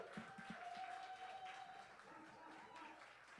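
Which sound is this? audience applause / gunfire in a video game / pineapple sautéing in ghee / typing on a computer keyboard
audience applause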